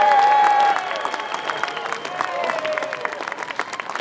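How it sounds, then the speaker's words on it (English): Applause and scattered cheers from an outdoor Scottish independence march and rally crowd in Glasgow as a speaker is welcomed, strongest at the start, then settling into a softer, ongoing patter of clapping with faint tonal background sounds. "Please give a huge round of applause for Iona Soper."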